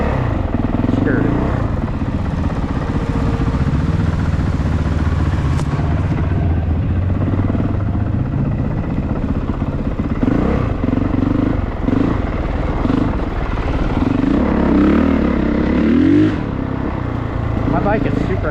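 An off-road motorcycle engine rumbles steadily at close range while a rider talks over it, with occasional clatter and shifts in engine pitch.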